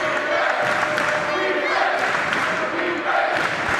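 A basketball crowd in King Arena roars in a sustained loud wall of cheering and shouting late in a close college game, with an announcer's voice audible over it.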